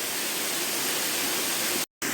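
Small waterfall on a brook in a gritstone clough in the Peak District, rushing as a loud, steady, close roar of falling water with a brief dropout near the end.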